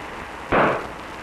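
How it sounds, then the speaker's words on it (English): A static-electricity spark sets off a small explosion tube: one sharp, loud burst that pops suddenly and then decays quickly into a quiet room, with no talking. "Charges induced onto the ball terminals of the explosion tube caused the ignition."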